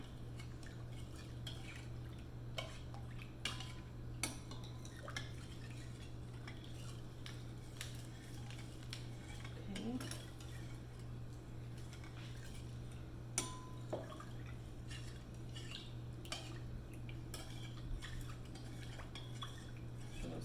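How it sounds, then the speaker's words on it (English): A yeast mixture for pizza dough is stirred in a bowl, giving faint, quiet clinks and taps of a utensil against the container at an irregular pace over a low steady hum, without speech. "So I'm gonna stir this together."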